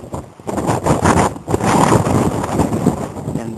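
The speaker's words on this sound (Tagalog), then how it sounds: "Malakas ang hangin dito." Strong wind buffets the microphone at a cliff edge on Mt. Pico de Loro, roaring in uneven gusts that swell and drop, loud and close.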